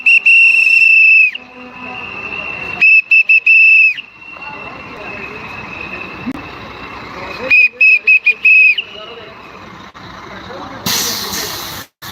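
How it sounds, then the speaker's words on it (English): Shrill whistles blown at a street protest blockade, sounding in long sustained loud blasts separated by gaps filled with steady background crowd and street noise. "I don't leave the house without my whistle."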